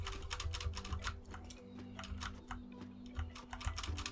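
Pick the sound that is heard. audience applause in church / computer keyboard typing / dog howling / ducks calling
computer keyboard typing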